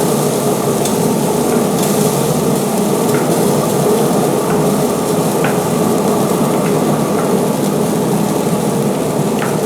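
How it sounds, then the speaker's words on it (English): Potatoes sizzle steadily in a hot pan while being stirred, a dense, even crackle of frying that fills the whole stretch, with a few faint clicks of a utensil scraping through. "Stir these potatoes once again."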